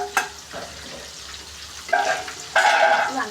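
Amaranth greens and grated coconut stir-fried in a pan for a Kerala thoran, with a soft sizzle and scraping spatula strokes coming in short bursts near the end.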